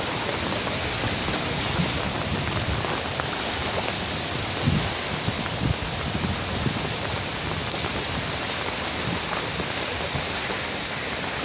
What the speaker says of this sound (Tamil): சரியான வெள்ளம்.